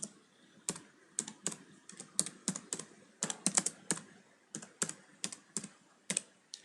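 Someone types a contact form on a computer keyboard while coding basic HTML, a close, quiet run of crisp key clicks in uneven bursts with short pauses, no talking.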